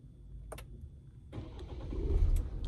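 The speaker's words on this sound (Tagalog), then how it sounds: "Ayan, umandar na yung ating sasakyan." A Ford car with keyless push-button ignition starts up: a click or two, then the starter cranks and the engine catches, settling into a rising, close, rumbling idle.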